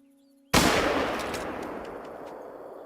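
A single loud rifle shot in the hunting video game theHunter: Call of the Wild cracks out of silence, followed by a long, echoing decay that slowly fades away.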